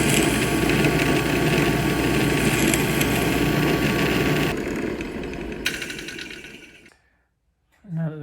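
A steady high-pitched drill whirs loudly for several seconds boring a 1/16-inch hole in a metal clock collar, then winds down and stops, followed by silence and a brief sound.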